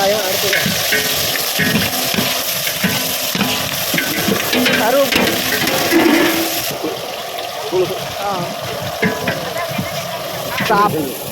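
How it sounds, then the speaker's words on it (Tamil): Oil sizzles and crackles in a pan as chickpeas are tempered and stirred, with people talking in Tamil over the cooking. "இது வந்து சுண்டல் தாளிக்கிறது"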